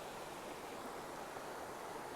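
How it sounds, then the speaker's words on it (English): A small creek flowing along a trail on the Pacific Crest Trail, a soft, steady rush of water, fairly faint and constant with no voices. "Crossing another nice little stream"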